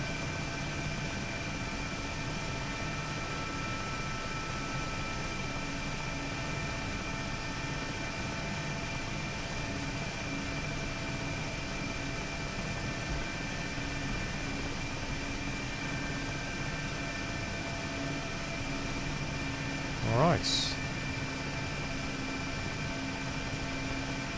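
A Mi-8MTV2 helicopter in the DCS flight simulator setting down for a landing: steady, even rotor and turbine drone throughout, with a brief bump of touchdown noise near the end.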